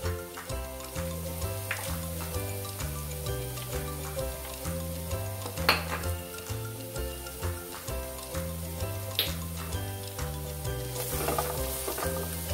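Aloe vera sabji with a pinch of turmeric being stirred in a pan, a soft steady sizzle and scraping running for about twelve seconds beneath loud, rhythmic background music.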